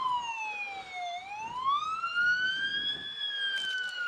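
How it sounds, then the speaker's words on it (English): A police car siren wails during a small-town Christmas parade in Steele, its steady rising and falling tone sounding clear and fairly close as the vehicle moves along the street. "As the sirens blare in Steele"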